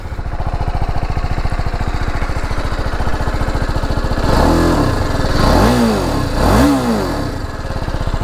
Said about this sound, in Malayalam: അപ്പോൾ വണ്ടിയുടെ എക്സോസ്റ്റ് നോട്ടൊന്ന് ഞാൻ കേൾപ്പിച്ചു തരാം